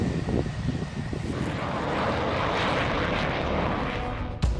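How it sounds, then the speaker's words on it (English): Twin-engine F-18 Hornet fighter jet powered by two General Electric F414 turbofans, heard as a steady, loud broadband roar that holds throughout, with a brief sharp thump near the end. "Aircraft like the F-18 Hornet, created by McConnell Douglas, is powered by twin F-414 GE400 turbofan engines from General Electric."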